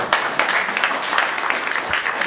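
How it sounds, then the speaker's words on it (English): An audience at a business gathering gives a steady round of applause, a dense wash of clapping from many hands at close to moderate distance, holding at an even level throughout. "we have to give him a round of applause"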